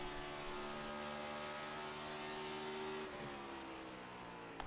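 A race car on a track accelerates hard, its engine a dense, steady roar with rising harmonic tones, briefly shifting pitch near the end as it pulls away under full throttle.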